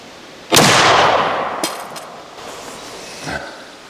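A Thompson Center Hawken muzzleloader rifle fires one loud, close shot that decays over about a second, followed by a brief sharp knock and a fainter thump later.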